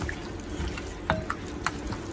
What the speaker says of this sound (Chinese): 最后再下手把排骨抓洗干净